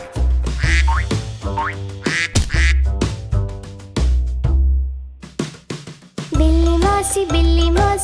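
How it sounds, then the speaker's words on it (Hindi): Repeated duck quacks ring out over bouncy, jingly music, coming in short rhythmic bursts. "देखा जब बतख को मैंने करते क्वैक।"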